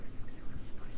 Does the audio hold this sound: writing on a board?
yes